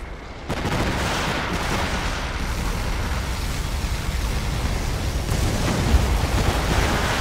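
A heavy, continuous roaring blast of particle cannon fire in Command & Conquer: Generals Zero Hour that rumbles and crackles steadily for several seconds.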